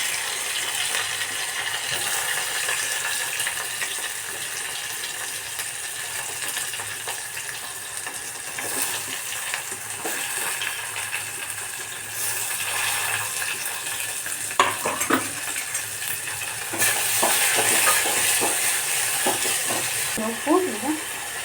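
Onion and green chillies frying in a pan give a steady broadband sizzle with occasional stirring scrapes, close and continuous throughout, with no talking.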